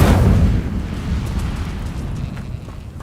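A fiery whoosh from the Incendio spell in Hogwarts Legacy, a loud burst at the start that fades into a sustained roaring crackle of flame.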